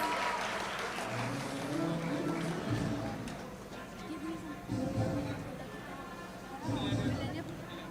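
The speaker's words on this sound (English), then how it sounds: "Let's keep the applause going," Applause from a crowd at a college graduation ceremony as classmates are called up, a continuous patter of clapping with background murmur and chatter running throughout.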